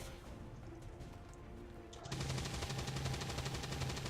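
Gunfire from the turn-based tactics game XCOM 2 with a ballistic weapon: a quiet stretch, then a sharp onset into a sustained, rapid rattling burst that fills the rest of the moment, with no talk over it.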